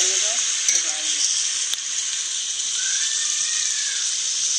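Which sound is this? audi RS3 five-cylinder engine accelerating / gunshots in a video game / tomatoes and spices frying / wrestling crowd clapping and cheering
tomatoes and spices frying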